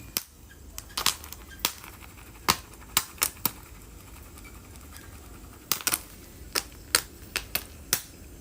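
Cheese-flavored Hotpop popcorn pops in irregular sharp cracks, some single and some in quick clusters, crisp and fairly close over a soft background hiss with no talking.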